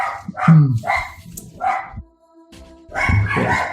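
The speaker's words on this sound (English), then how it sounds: "Food has showed up, of course. And my dogs go crazy." Dogs bark excitedly as food arrives at a house, a burst of repeated loud, close barks and yips, a short lull, then another frenzied round of barking.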